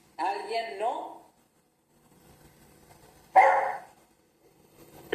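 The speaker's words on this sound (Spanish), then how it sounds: "El perro, creo." A dog barks in two separate bursts, a short cluster of yips and barks at first and then a single sharper bark a few seconds later, heard from inside a quiet classroom during a maths lesson.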